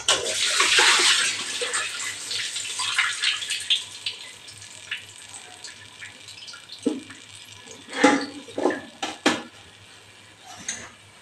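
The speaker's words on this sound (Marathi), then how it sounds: "त्यांचा पाणी घालून घ्यायचा." Water gushes loudly into a cooking pot for pumpkin pieces, then the pour stops and metal clinks and knocks follow as the pot and utensils are handled.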